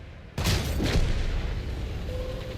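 An artillery shell explodes in the World of Tanks video game with a sudden loud boom, followed by a second impact and a lingering low rumble that fades slowly.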